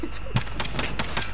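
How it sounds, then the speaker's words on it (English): Gunfire rattles in a video game: a quick run of sharp, loud shots in close succession, crackling and near, with no talk over it. "Somebody shooting at me, bro."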